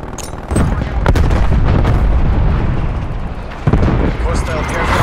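A frag grenade explodes in the Call of Duty Black Ops Cold War shooter game, a loud close boom followed by sustained rumbling blasts and a second sharp burst near the end.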